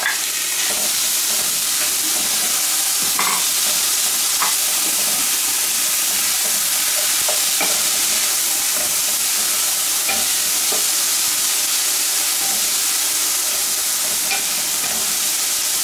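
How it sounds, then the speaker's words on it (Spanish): Sliced bell peppers added to browned garlic in a hot pan for cabbage soup, with loud continuous sizzling and frying and occasional scrapes of stirring throughout. "Ya que el ajo se ha dorado un par de minutos, vamos a agregarle los pimientos."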